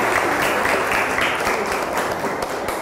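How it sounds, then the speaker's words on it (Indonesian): Applause for Banu, a student who has just finished a synthetic batik demonstration: dense, steady clapping from a group fills the short stretch at an even level, with no talk over it. "Beri tepuk tangan buat Banu."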